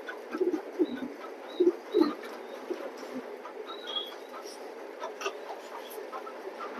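A male chocolate-colored pigeon coos in a cage, several short throaty bursts in the first two seconds, then softer calls, with faint chirps from other birds and background rustling.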